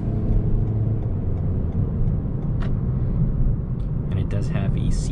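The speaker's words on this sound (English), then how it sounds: "Let's go ahead and take it on the highway and see how this Toyota Corolla does" A 2021 Toyota Corolla XSE with sport-tuned suspension and CVT cruises on the highway, a steady low engine and road drone heard from inside the cabin, with a few faint clicks and rattles toward the end.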